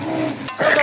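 Paneer pieces fry and get stirred in a hot pan: a steady bright sizzle, broken briefly by a sharp scrape, then a louder, busier crackle as the cubes are turned, close and continuous.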